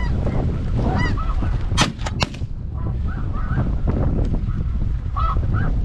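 Snow geese honk loudly and constantly overhead during a waterfowl hunt in Saskatchewan, Canada, the dense calling broken by a quick burst of sharp shotgun blasts.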